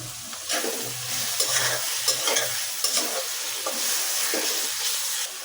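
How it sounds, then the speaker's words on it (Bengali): Chopped egg frying in a pan with ginger garlic paste, a steady close sizzle with scraping stir strokes recurring through the clip and no voices. "কুচি করে রাখা ডিম একটু ভেজে নিব কিছু সময়।"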